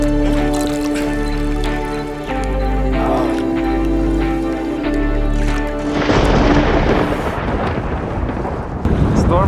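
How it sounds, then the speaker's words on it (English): Deep rolling thunder of an approaching storm over the Amazon river, rumbling loud and continuous, then giving way to a heavier rushing wash of rain and wind. "Storm is coming."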